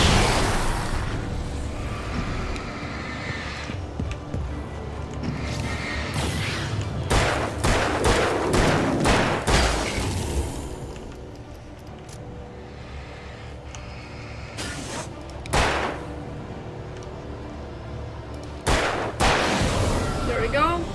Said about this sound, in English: I feel like this is a good time for a flashbang.